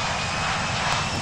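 Steady, loud airliner engine drone from a Malaysia Airlines plane in the Infinite Flight Simulator game, a continuous broadband roar with no talk.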